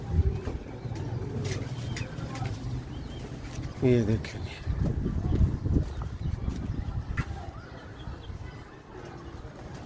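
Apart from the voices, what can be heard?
pigeons cooing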